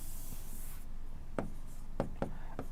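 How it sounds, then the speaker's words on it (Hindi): Chalk or marker writing on a board during a physics class, a handful of short scratchy strokes near the end after a quieter stretch, fairly close with no talking. "इसको चलो शॉर्ट में लिख देता हूं।"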